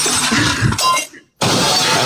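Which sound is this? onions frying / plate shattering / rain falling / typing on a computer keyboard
plate shattering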